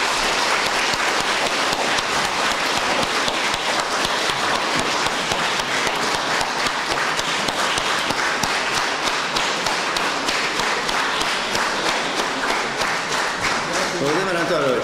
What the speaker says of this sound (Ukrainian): це поки що перші аплодисменти сьогодні для вас